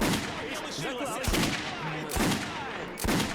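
Gunfire in the video game Metro Last Light Redux, a few sharp, loud shots at uneven intervals with echoing tails, set against game ambience and character voices.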